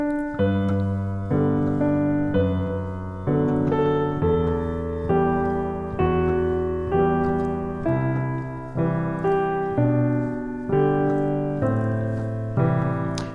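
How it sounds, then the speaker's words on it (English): Piano played with a bouncing left-hand pattern under chords, rhythmic low notes alternating with higher chord stabs in a steady repeating pulse, clear and close for over ten seconds with no talk. "A bounce sounds like this."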